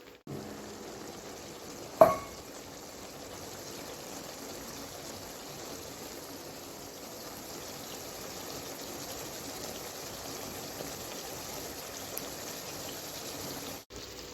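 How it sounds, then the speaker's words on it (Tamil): Water poured into a pan of chicken gravy, a soft continuous trickling and sizzle held at low level for over ten seconds, with a single sharp clack near the start. "இப்போ இந்த டயத்தில் தண்ணி சேர்த்துக்கலாம்"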